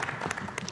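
Audience applause at a televised panel event, a brief dense wash of clapping from a crowd, close and steady for under a second.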